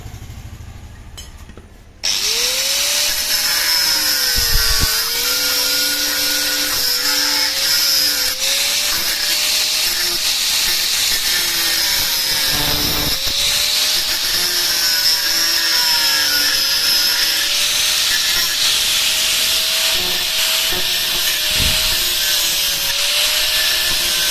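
A power tool grinds steadily and loudly through old metal rings welded onto a coconut husking tool, its whining pitch rising and dipping with the load for over twenty seconds after a brief quiet start.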